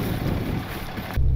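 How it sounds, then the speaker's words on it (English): Strong wind from a wind storm roars across an outdoor roadside, a steady, loud, low buffeting rumble that surges even heavier near the end, with no voices. "It is windy."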